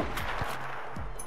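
Sniper rifle shot fired in the Battlefield 4 video game, a short burst of muffled game gunfire with a couple of sharp cracks over steady background game noise, no talking.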